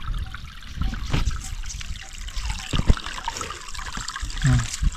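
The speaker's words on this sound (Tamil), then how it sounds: "இப்போ பாருங்கள் நீங்கள் எடுத்தோட பாருங்கள் எவ்வளோ தண்ணி வருது" Water rushes and trickles through the cleared channel of a primitive fish trap, a continuous close splashing flow with uneven surges and gurgles.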